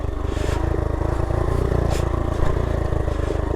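A 1970 Honda Trail 70 trail bike runs steadily as it descends a slick, muddy, rocky trail, its small engine putting out a constant close drone with rattles and clatter from the bumpy ground.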